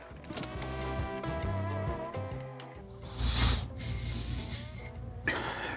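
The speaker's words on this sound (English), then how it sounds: "We'll rinse it off again." Water splashes and rinses ground-off gray steel slurry from a sharpening stone used for a woodworking chisel, two loud broad hissing bursts in the latter half after quieter tonal background sound.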